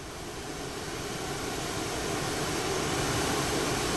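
F/A-18 Hornet jet engine in a flight simulator while taxiing, a steady loud broadband roar that swells slightly over the few seconds, with no talk.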